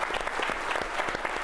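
A symposium audience at an accounting conference claps in a dense, steady burst of applause, filling the room briefly with no talk over it.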